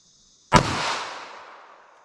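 A single sharp gunshot of a .380 ACP pocket pistol round fired into clear ballistics gel cracks loud and close after a short near-silence, then rings down in a fading echo.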